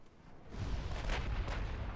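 Naval gunfire from warship guns booms in the video game Ultimate Admiral Dreadnoughts, a couple of heavy low blasts rolling into each other over a short stretch, with no voices.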